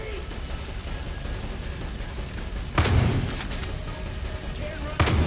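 Incendiary flame rounds firing in Far Cry 5, a couple of sharp bursts standing out over a constant roar of game noise and background rumble.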